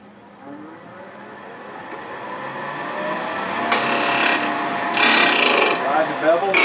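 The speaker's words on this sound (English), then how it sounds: "So first thing we're going to do is rough turn it round and add a tenon to each end." A wood lathe rough-turns a square wooden blank for a screw-together keepsake box, a steady whirring hum with rising scraping and intermittent rough chattering bursts as the gouge bites.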